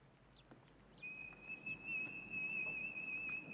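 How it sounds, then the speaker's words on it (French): A person whistles a single sustained, steady high tone lasting a few seconds, fairly faint against a quiet background with light scattered noises. "Si tu veux bien arrêter de siffler cette heure-là"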